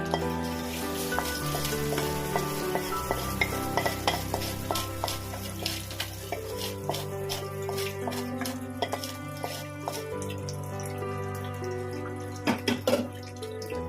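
Potatoes for Kashmiri aloo dum sizzle in oil while being stirred, a steady frying hiss broken by repeated clinks and scrapes of a utensil against the pan, with no talk.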